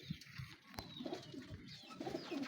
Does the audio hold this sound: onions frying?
no